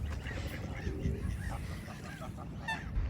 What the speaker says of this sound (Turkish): Burada adamlar ördekleri besliyorlar